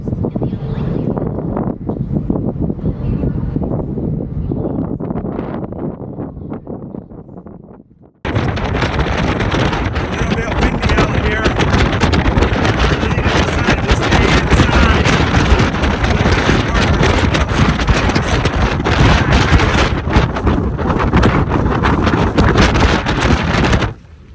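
Strong wind buffets the microphone on deck 7 of an RV ferry crossing to Vancouver Island, a steady, roaring rush, starting softer then becoming loud and constant, with faint voices underneath.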